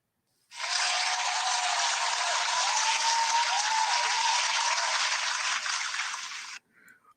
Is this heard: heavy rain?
no